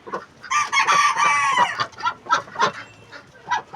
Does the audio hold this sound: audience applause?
no